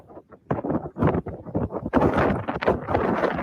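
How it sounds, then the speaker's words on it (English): Strong wind gusts batter the microphone outdoors in rough, uneven bursts, loud and close, with a roaring buffeting that rises and falls throughout. "Oh, so windy."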